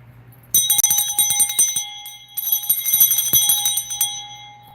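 A metal bell rings out loud and close, two bursts of bright, shimmering strikes with a sustained high ringing tone between them, no voices present.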